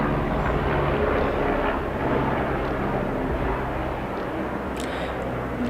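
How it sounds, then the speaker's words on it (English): A helicopter flies overhead in the distance, giving a steady, broad rumbling drone that holds at a constant level throughout with no talking. "there's a helicopter flying over wherever I'm at"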